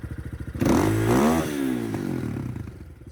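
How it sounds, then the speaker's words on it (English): An Apollo 250cc dirt bike engine idles with a steady putter, then the throttle snaps open into a loud, close rev that climbs and falls back toward a rough idle. "The bike's been idling for a while now. We'll give you guys the throttle."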